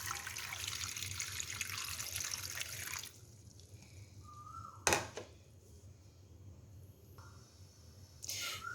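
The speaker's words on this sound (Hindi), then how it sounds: "पानी डाल देंगे।" Water is poured into a pan of raw mangoes in a close, splashy stream lasting about three seconds, followed by quiet with a few faint clinks and a brief final splash.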